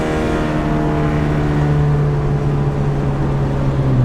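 A boosted car accelerating hard at high RPM, a loud sustained engine drone rising steadily from inside the cabin, with no talk.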